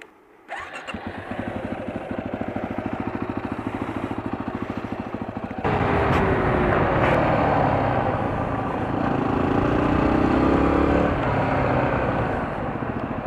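Two Yamaha WR250R dual-sport motorcycles start up and ride off along the Steese Highway in Alaska: a sharp engine start, a steady close idle, then louder revving as the bikes pull away, continuous throughout with no talk.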